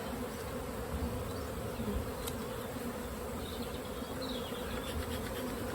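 Dense honey bee buzzing fills the air around an open hive box during a colony split, a constant close swarm drone with individual bees passing near.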